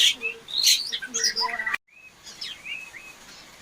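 A white-rumped shama sings varied whistled phrases and chirps, a lively run of notes, then softer calls after a brief break.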